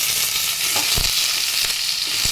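Pumpkin frying in hot oil gives a steady, loud sizzling hiss, broken by a couple of soft knocks as it is stirred.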